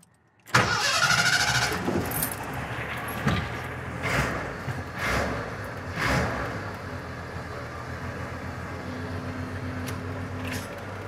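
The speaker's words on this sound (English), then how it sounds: "Let me go ahead and start her up, and I'll let you take a listen." A 1985 Ford F-150 inline-six truck engine cranks and fires, catches with a few sharp blips of revving, then settles into a steady rumbling idle, close and fairly loud.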